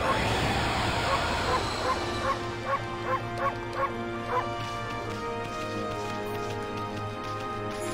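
Cartoonish dog barking from the Okami HD video game, a run of short evenly spaced yips over a steady music bed, with a voice talking faintly underneath.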